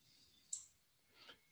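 A single sharp computer mouse click, quiet and close, followed by faint softer handling noise in an otherwise hushed room.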